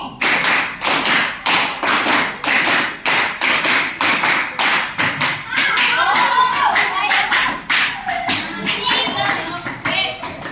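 A fifth-grade class in an Indonesian primary school claps hands together in counted rhythmic patterns. The loud claps are close and sharp, coming in regular bursts and groups, with a voice briefly heard between them.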